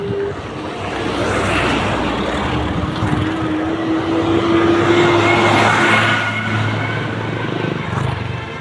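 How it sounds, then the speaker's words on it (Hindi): Highway traffic beside a roadside petrol pump, a continuous loud rush of vehicles passing close by with a rising and falling engine drone, no voices. "ये है हाईवे"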